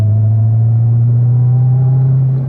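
A Corvette cruises a cool-down lap on a track in fifth gear, giving a loud, steady, low engine drone from inside the car, with no change in pitch and no talking.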